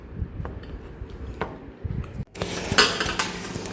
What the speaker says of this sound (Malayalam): നീളത്തിൽ നുറുക്കാം